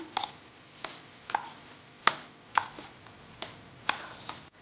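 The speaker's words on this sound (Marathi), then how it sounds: "छान प्रकारे आपण याला ढवळून घेऊया" Vegetable biryani mixture being stirred in a bowl, a series of about eight sharp, spaced knocks and scrapes of a spoon against the vessel over a quiet background, no talking.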